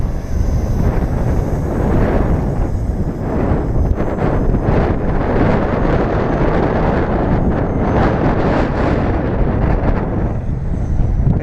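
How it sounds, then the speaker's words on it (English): Strong wind buffeting the microphone outdoors during an RC helicopter flight, a loud continuous roaring rumble with gusty surges throughout, drowning out other sound. "it's blistering windy"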